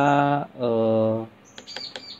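A white-rumped shama (murai batu) with an APBN-registered contest ring sings loud, close, rich whistled phrases, two long sustained passages with a pause between them, then a few short sharp chirps.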